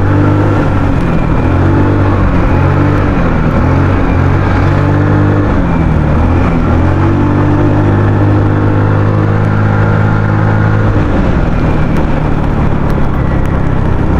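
A Rusi Royal 125 motorcycle on Halsema Highway revs hard, its engine pitch climbing and falling through repeated throttle blips and gear changes under constant loud wind rush.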